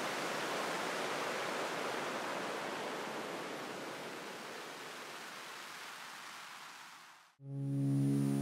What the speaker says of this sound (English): And this one emulates the ocean.